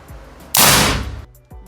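A single sharp, loud shot from a Mauser OD38 PCP air rifle with a burst of hiss that fades over about half a second, framed by quieter faint clicks.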